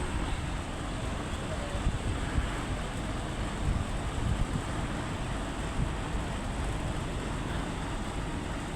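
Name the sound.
strong wind at a stadium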